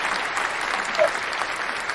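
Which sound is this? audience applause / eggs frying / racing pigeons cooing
audience applause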